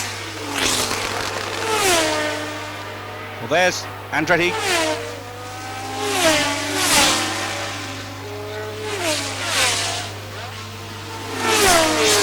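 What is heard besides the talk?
1977 Formula One race cars passing at Dijon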